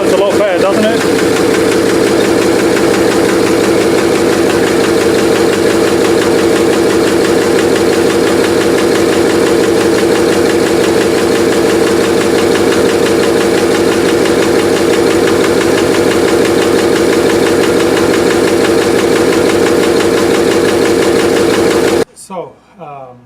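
A Rolls Royce car engine running steadily after carburetor work, a loud, even idle hum with rhythmic knocking pulses that holds unbroken for over twenty seconds, then cuts off as someone briefly speaks.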